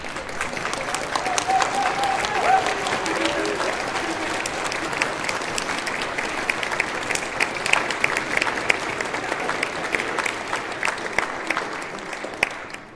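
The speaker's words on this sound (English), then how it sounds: "If you are a senior, please stand. We'll clap for you as well." An audience at a college symphony orchestra concert claps steadily for standing seniors, a broad, sustained round of applause from a large hall crowd lasting throughout, with faint voices mixed in.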